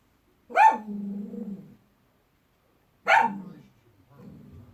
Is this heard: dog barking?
yes